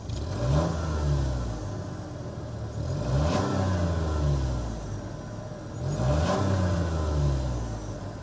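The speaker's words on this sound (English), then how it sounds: "let's go inside, start it up so you can hear it rev up." A 2023 Buick Encore GX's 1.3-liter turbocharged three-cylinder engine revving up three times from idle, each rise swelling and falling back, fairly close with a steady whir underneath.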